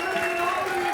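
Steady, loud clapping and cheering from a packed comedy club crowd at The Stand in Glasgow, welcoming a comedian to the stage in one brief unbroken burst.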